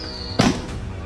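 A single sharp bang cracks out, brief and loud, over a quiet background with a faint high tone fading just before it.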